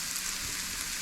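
Instant ramen sautés in a little oil in a frying pan, a steady, even crackling hiss close by with no pauses.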